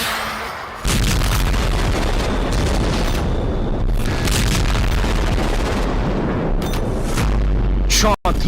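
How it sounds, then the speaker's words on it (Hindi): Russian missile strike explosions in Ukraine: a long run of loud, heavy booms and rumbling blasts, one rolling into the next over several seconds, close and dense with a brief sharp drop near the end. "रूस ने यूक्रेन पर एक ही रात 34 मिसाइलों से हमला कर दिया।"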